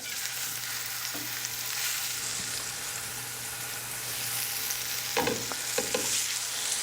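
Steady frying hiss of meat in hot olive oil, with a few sharp pops and crackles near the end, close and moderately loud, no voices.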